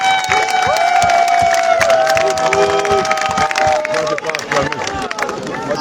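A large outdoor crowd cheers and acclaims at a welcome ceremony in Lastourville, Gabon, with dense shouting, clapping and whistling tones, loud and sustained throughout.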